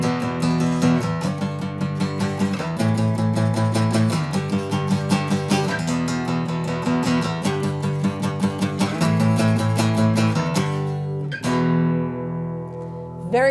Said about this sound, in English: So if you put this behind some cool power chords, it'll sound something like this.